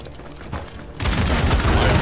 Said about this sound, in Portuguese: Tá mandando aí a bomba!